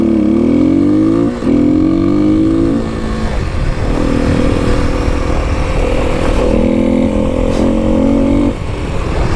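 A Kawasaki KLX300 dirt bike roars loud and close on an open desert trail, its engine pitch climbing and dropping through gear changes and throttle shifts against steady rumble and wind.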